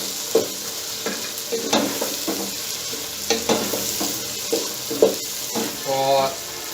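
Chopped coriander stirred into frying behja (lotus stem) in a pan of oil, with a steady sizzle and repeated soft scraping strokes of a spoon, close and moderately loud.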